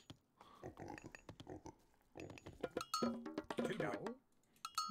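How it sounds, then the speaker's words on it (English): Pigs oink in short grunts scattered through a real-time strategy match in Age of Mythology, mixed with clinking unit and interface sounds, while someone talks over the game. "Look at all these pigs here."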